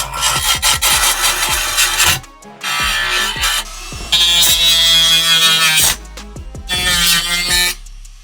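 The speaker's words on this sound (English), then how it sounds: "So I like sanding and get rid of it." Harsh, rhythmic abrasive scraping in repeated bursts with short pauses between, loud and close, sanding rust off metal on a PlayStation 2 console.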